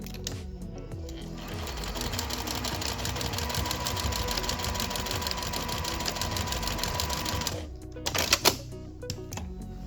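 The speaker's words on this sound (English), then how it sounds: "now we're just going to anchor, sew, backstitch a few times to give it a nice snug fit" A sewing machine backstitching to join the ends of elastic for a scrunchie runs in a steady rapid whir of needle strokes for about eight seconds, then stops, followed by a few handling clicks close by.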